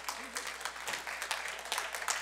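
A church congregation claps and applauds together in a short, steady burst. The clapping is fairly faint and sounds like it fills a large room, with a murmur of voices underneath.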